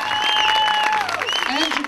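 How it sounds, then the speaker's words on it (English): A crowd at a real estate auction applauds with brisk clapping, briefly, while a voice speaks over it. "Give the new owner a nice round of applause."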